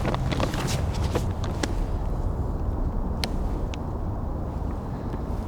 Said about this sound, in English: That horrible droning wind is actually the sound of cars on a motorway over a mile away